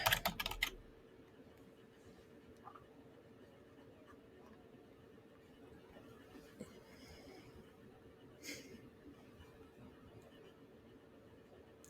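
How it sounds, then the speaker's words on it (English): Soft, quiet keyboard typing, scattered key clicks in irregular bursts against a low background hum, with a louder cluster at the start. "So then start typing in."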